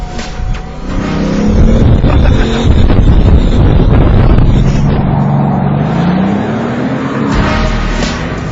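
Bugatti Veyron Grand Sport convertible, 8-litre 16-cylinder quad-turbo engine, a loud deep sustained roar with a slowly rising pitch under wind noise, heard from an open-top cabin with no talking.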